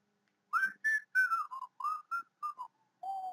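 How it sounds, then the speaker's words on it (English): Someone whistles a short tune, a string of clear, separate notes rising and falling, close and quiet with no talking. "Why am I whistling that?"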